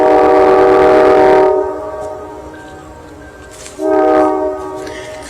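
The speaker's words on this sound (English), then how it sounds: "You can hear the bell clinking on that train." A train passes nearby in Conneaut, Ohio. One loud horn blast cuts off, then after a quieter stretch a second shorter blast sounds over the rolling rumble and light metallic clinking of a bell.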